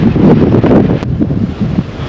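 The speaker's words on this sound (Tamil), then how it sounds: "அந்த அளவுக்கு காற்று அதே நேரம் ரொம்ப சில்லுன்னு இருக்குது" Strong cold wind at a mountain viewpoint in Sri Lanka's hill country buffets the microphone in loud, continuous gusts that roar and rumble without letup, with no one speaking.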